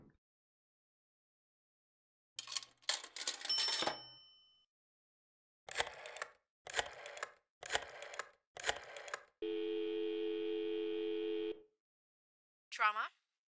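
Telephone sounds in the video game Blacksad Under the Skin: a burst of clicks and rings, then four separate short tones in sequence, a steady two-second dial or ring tone, and a final brief chirp, played cleanly with no talk.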